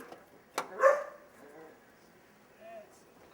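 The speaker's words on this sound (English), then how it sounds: "There's one of my dogs." A dog outdoors gives a single short bark followed by faint whimpers, at moderate distance against a quiet background.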